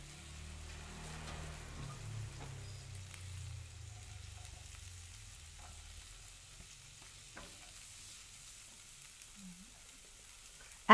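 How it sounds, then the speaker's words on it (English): Chopped garlic sautéing in oil for chili garlic shrimp, a soft, fairly faint sizzle with gentle stirring that fades toward the end, no voices. "saute the chopped garlic until fragrant"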